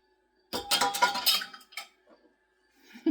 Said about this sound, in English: add the beans to the bowl